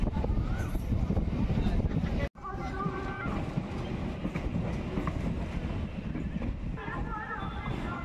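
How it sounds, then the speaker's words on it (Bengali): A Diamond Harbour local train of 12 coaches makes a continuous loud rumble with rattling wagon noise and wind buffeting, broken once by a brief dropout, and it carries on steadily. "ফাইনালি আমাদের ট্রেন ডায়মন্ড হারবার প্ল্যাটফর্মে ঢুকছে"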